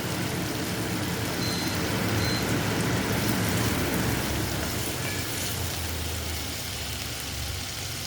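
Grated ginger frying in oil with chopped tomato in a pan for a vegetarian moong kalia, giving a steady, dense sizzle that stays loud throughout with no voices.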